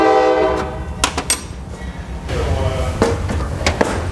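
A passing train sounds a loud, sustained horn blast, then a low rumbling roll carries on beneath scattered metallic clicks and knocks close by.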